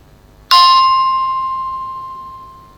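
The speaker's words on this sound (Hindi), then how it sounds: "घंटी की ध्वनि" A bell tone played back by a talking book device, one clear ding that starts sharply and rings out slowly, fading over about two seconds in a quiet room.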